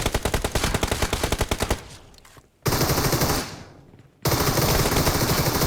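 Bursts of UMP submachine gun fire in a battle royale shooter game, loud rapid automatic volleys with a brief pause and silent gap between, then sustained firing resumes.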